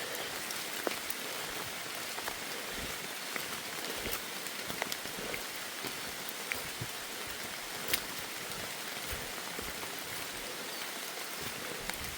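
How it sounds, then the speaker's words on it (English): Steady rain pattering on leaves and ground along the Appalachian Trail in North Carolina, a continuous close hiss with scattered drips, no voices. "The rain has subsided quite a bit."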